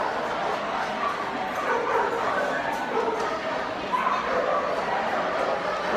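Dogs at an animal adoption event yip, whimper and bark in a busy indoor room, the scattered, overlapping calls running under people talking nearby.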